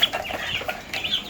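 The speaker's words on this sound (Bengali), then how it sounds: "আমাদের মুরগিগুলো, মাশাআল্লাহ ওরা অনেকটা বড় হয়ে গেছে" Chickens, grown from small chicks, cluck in short, repeated bursts close by, a steady run of fowl calls with no talk over them.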